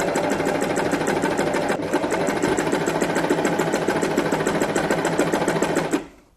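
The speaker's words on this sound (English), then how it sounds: "We're going to sew along the top of the flag, down the sides and across the bottom to where it meets the line" A sewing machine stitching along the edges of a small felt flag, running in a fast, continuous mechanical rattle close up, with a brief pause early on before stopping at the end.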